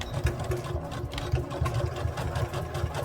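A sewing machine back stitches fabric for a stuffed bear, a close, rapid mechanical chatter of the needle that runs steadily with slight pulsing throughout.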